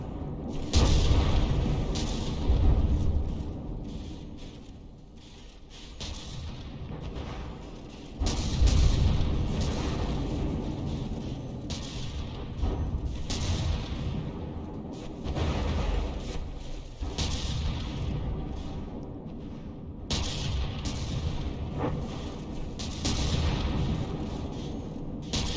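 Battleship guns firing in From The Depths during a naval brawl, with repeated booming blasts and rumbling volleys in irregular bursts, loud and close, layered over continuous low battle rumble.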